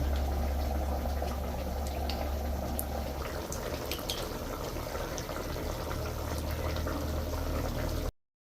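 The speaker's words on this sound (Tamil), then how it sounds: "நல்லா எண்ணெய் கொதிச்சதில் அப்புறம் வந்து மீனை போட்டு போட்டு எடுக்கலாம்" Tuna pieces fry in boiling oil with a dense, steady bubbling sizzle and scattered crackles, close and continuous for about eight seconds, then it cuts off abruptly.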